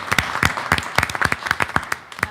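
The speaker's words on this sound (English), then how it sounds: "I think that certainly warrants a round of applause" A small audience at a school district board meeting gives a brief round of applause, made up of sparse, fairly regular claps that fade at the end.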